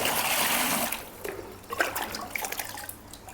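Water poured into a measuring jug while measuring out about two and a half litres, a loud steady pouring rush that cuts off, followed by faint trickles and small splashes close by.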